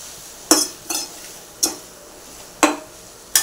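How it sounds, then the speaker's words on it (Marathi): A spoon stirs dried shrimp chutney as it sautés in a pan, making five sharp, irregularly spaced clinks and knocks against the metal over a soft background hiss. "हे पहा, परतून घेऊया, हे पण मिक्स करूया।"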